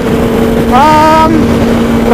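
Kawasaki ZX-10RR motorcycle engine cruising in fifth gear, a loud steady drone with wind roar and a brief rising tone in the middle, recorded on the move.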